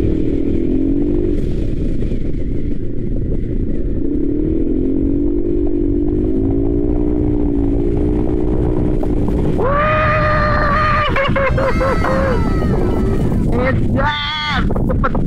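A turbocharged Yamaha XMAX 300 scooter engine drones steadily, then its whine climbs sharply in pitch as it accelerates hard on a straight, followed by a brief dip and another rising rev.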